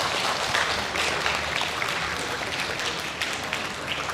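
Webinar participants applaud and clap in a dense, steady wash of noise that keeps going without a break, with faint voices underneath.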